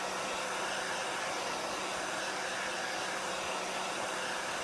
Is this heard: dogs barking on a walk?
no